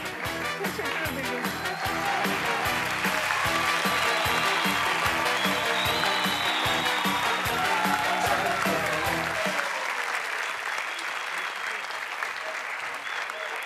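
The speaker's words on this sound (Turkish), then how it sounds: "Didem ve koskocaman alkış" A studio audience on the Turkish game show Çarkıfelek breaks into loud, sustained applause with rhythmic clapping, and a host's voice runs over it before the clapping thins into a softer, scattered patter.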